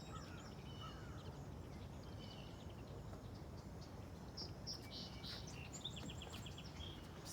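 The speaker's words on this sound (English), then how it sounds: "Still hearing another song sparrow singing over here." A song sparrow sings at a distance by a prairie pond, its short, bright phrases faint over steady insect and cricket hum in a quiet morning outdoors.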